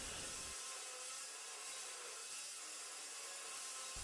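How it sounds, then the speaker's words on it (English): A metal-cutting saw, either an Evolution Rage2 or a DeWalt DW872, cuts through aluminum with a steady, harsh, high-pitched grinding whine. The sound is continuous and close, with no talking. "The saw is shuttering quite a bit now"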